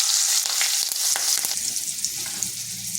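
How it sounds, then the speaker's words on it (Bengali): Whole cumin seeds, two dried red chillies and a bay leaf hit hot oil left from frying eggs, a loud close hiss with quick sharp crackles early that settles into a steady sizzle. "আর ওই তেলে ফোড়নে দিচ্ছি গোটা জিরে, দুটো শুকনো লঙ্কা"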